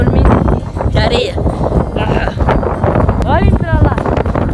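Strong wind in a sand storm on coastal dunes buffets the microphone with loud, gusty roaring, while someone talks excitedly over it throughout.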